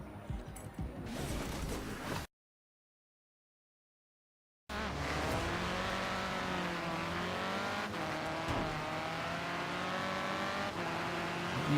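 An Alumicraft sand buggy races in Forza Horizon 3, its engine roaring and revving with tire noise, cut by a short stretch of silence before the loud, sustained driving resumes.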